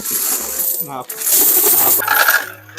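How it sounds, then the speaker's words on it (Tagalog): Coins pouring into a GCash coin deposit machine, a loud dense rattle and clatter of metal tumbling inside, with mechanical whirring and clinks heard close up. "coins to Gcash deposit machine."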